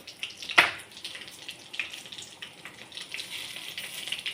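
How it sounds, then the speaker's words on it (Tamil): Mustard seeds and dried chilies frying in hot oil for a South Indian keerai kulambu, giving a steady soft sizzle with a brighter crackle and pop near the start, moderately close and without talk. "எண்ணெய் ஊற்றிக்கலாம். கடுகு, காஞ்ச மிளகாய் போட்டுருக்கேன்."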